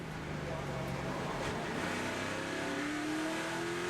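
A NASCAR Nationwide Series race car, the 16 car driven by Greg Biffle, in final practice at Richmond in 2008, heard from on board: the engine drones loud and steady, its pitch climbing smoothly as it accelerates.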